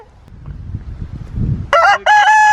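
A farm rooster crows loudly and close by in two bursts near the end, following a few seconds of quiet rustling and low background noise.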